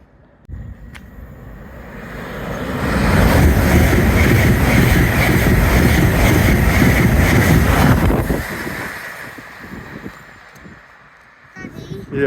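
A freight train passes through Chester-le-Street station. Its rumble swells from nearby, holds loud for several seconds, then fades, with wind buffeting the microphone and brief voices at the edges.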